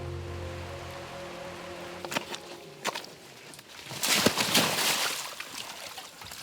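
Rain falls through the Guiana jungle as a soft patter that swells into a dense, hissing wash, with a few sharp steps and rustles near the end.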